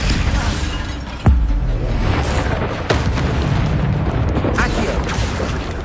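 Shield spell being cast in a Harry Potter video game amid a fight with spiders near a bridge: a loud booming impact near the start, then another sharp hit and a swelling magical burst over a dense, noisy battle bed.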